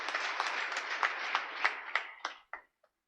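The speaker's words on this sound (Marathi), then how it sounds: "एकदा जोरदार टाळ्या त्यांच्यासाठी एकदा होऊन जाऊ द्या" Scattered clapping from a small crowd at a political speech in Kudal-Malvan, a steady patter of hands that thins out and ends with a few last claps.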